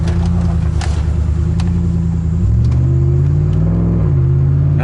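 A 2011 GMC Sierra pickup with a new left motor mount and muffler pulls away on a test drive, its engine rumbling steadily and close, with the pitch climbing partway through as it accelerates.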